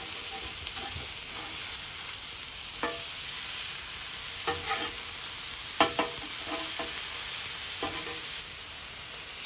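Sea scallops searing on a hot Blackstone griddle give off a steady close sizzle, broken now and then by short scraping taps of a spatula, with no talking.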